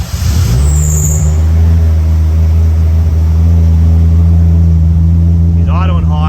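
A big-turbo Nissan RB30 engine in an S14 fires up and settles into a loud, steady idle, its deep drone running continuously with an electric pump whining alongside and a brief voice near the end.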